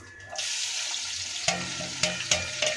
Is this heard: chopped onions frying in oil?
yes